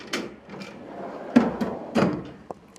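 A drawer on a 55-inch Snap-on KRL toolbox sliding and shutting, with a few sharp metallic knocks and rattles of loose tools inside, close by and fairly loud, without speech.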